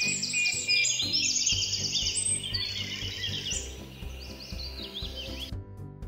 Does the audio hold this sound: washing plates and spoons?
no